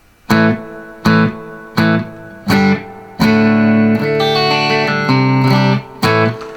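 An electric guitar plays dry through an amp with a little reverb and the delay pedal switched off: a run of distinct, punchy notes, several short plucks followed by a longer sustained chord, loud and close.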